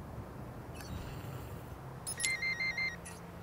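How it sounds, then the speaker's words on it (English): A phone ringing in Watch Dogs 2, a short series of bright electronic ring tones that pulse in a quick repeating pattern over low background hum, preceded by a faint chime. "made your phone ring"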